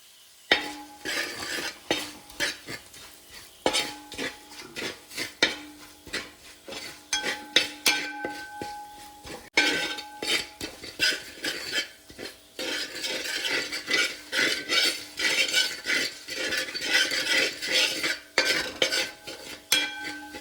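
Fried anchovies being stirred with chili and turmeric in a pan: rhythmic scraping and clinking of a spoon against metal over a faint sizzle, close and fairly loud, with no talking.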